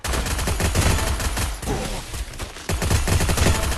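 Rapid gunfire from the mobile battle-royale game Free Fire, dense overlapping bursts of automatic shots rattling almost continuously and loud, with a brief lull midway before the firing resumes.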